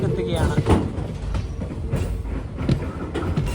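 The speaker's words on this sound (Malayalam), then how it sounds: "അങ്ങനെ അമൃത എക്സ്പ്രസ് ഇതാ ആദ്യമായി രാമേശ്വരം റെയിൽവേ സ്റ്റേഷനിലെത്തി." The Amritha Express train rolls into Rameswaram railway station, a low rumbling of wheels and carriages with intermittent clanks and clacks, and people talking over the noise.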